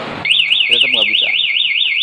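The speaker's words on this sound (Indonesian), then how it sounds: "Ketika ada perampasan, maka mesin mati dan alarm berbunyi." A 2020 Yamaha NMAX's one-way anti-theft alarm blares close and loud, a fast warbling electronic tone that wavers up and down continuously after a brief rustle, with a voice murmuring briefly beneath.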